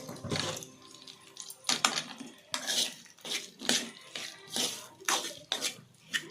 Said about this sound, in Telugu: వేసుకొని బాగా మిక్స్ అయ్యేలా బాగా కలుపుకోవాలి.